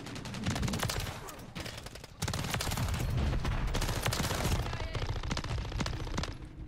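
The WSP Swarm submachine gun in Call of Duty MW3 fires long, rapid, steady bursts, with a fast rattling cadence and a few short breaks between the strings.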